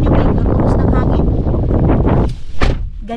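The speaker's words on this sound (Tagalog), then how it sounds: "malakas ang hangin" Strong wind buffets the microphone with loud, rumbling low-end roar and gusty bursts, nearly continuous, with a short lull before another heavy gust.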